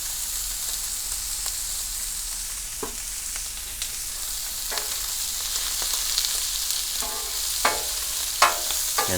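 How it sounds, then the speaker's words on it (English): Sweetbreads frying in corn oil, a steady, moderately loud sizzle and crackle with scattered spatters and occasional stirring clicks, no voices. "Just going to fry them up a little more."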